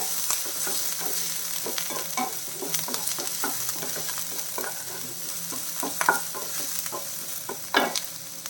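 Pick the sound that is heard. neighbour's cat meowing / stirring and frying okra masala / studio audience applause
stirring and frying okra masala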